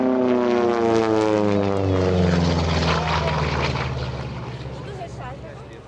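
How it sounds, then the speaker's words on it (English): A P-47D Thunderbolt, a large single-engine radial-piston fighter, performs an aerobatic display at an airshow. Its propeller engine drones loudly and steadily with shifting pitch, gradually fading as the plane moves away, with a voice speaking over it. "under the skillful hands of Bernie Vasquez, we will see this aerobatic performance by the mighty Jug, an airplane that was the largest single-engine fighter built by any country"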